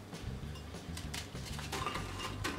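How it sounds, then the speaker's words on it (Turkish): Hazelnuts dropping into a food processor bowl, a patter of small light clinks and ticks spread over a couple of seconds, faint and close, with no voices. "Hemen önüme robotumun kabını aldım ve içerisine dondurucunun vesaire içerisine fındıklarımı koyuyorum."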